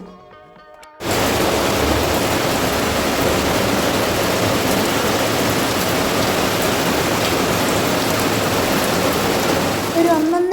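Heavy monsoon rain pours down in a steady, loud, dense hiss, starting abruptly after a brief quiet moment and continuing without letup to the end.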